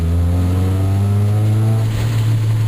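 A 2002 Mitsubishi Lancer drives along with a loud, steady low engine drone close by, its pitch holding then easing slightly as it cruises, with no voices.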